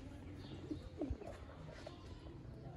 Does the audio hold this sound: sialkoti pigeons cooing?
yes